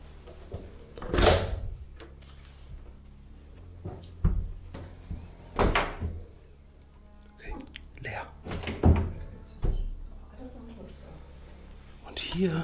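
A drawer slides open with a rattle of metal cutlery, mixed with several thuds and knocks of cupboard doors in a room of an abandoned manor farmhouse.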